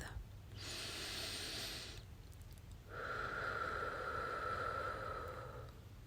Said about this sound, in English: Let's pause together and breathe.